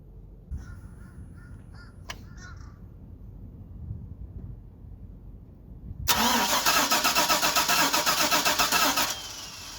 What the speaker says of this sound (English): I'm going to go ahead and crank the engine in the same way.